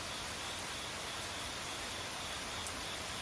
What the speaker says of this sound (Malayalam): ഇതാണ് മഴയുടെ സംഗീതം എന്ന് പറയുന്നത്